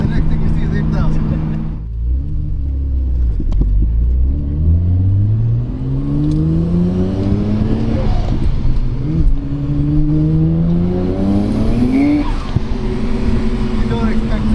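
Nissan Skyline GT-R R32 engine revving hard and accelerating up through the gears, pitch climbing repeatedly with quick shifts, loud and close throughout.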